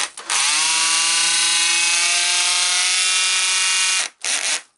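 A Makita BDF440 cordless drill whines at a steady high pitch for about four seconds with its clutch slipping under load, then stops briefly before a short final burst, loud and close with no talk.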